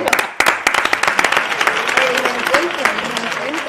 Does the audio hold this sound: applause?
yes